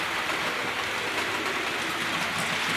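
A model West Country class locomotive, Trevone, runs along track hauling coaches, giving a faint, steady, hissing rumble of wheels and rolling stock throughout.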